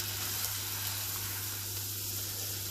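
Hake fillet frying butter side down in a very hot, lightly oiled pan, giving a steady, close, loud sizzle that holds evenly throughout with no talking.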